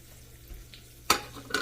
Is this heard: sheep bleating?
no